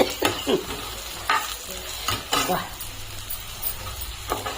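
Okra is stirred in a hot pan with garlic and chili powder, giving a steady low sizzle broken by several scraping stirs of a spatula and a few light metal clinks, heard up close with no talking.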